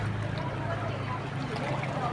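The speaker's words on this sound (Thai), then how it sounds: "เรือก็มานะคะเพื่อนๆ" A boat on the river in front of Wat Phanan Choeng, where the Chao Phraya and Pa Sak rivers meet, gives a steady low engine drone with water noise, moderately distant and continuous.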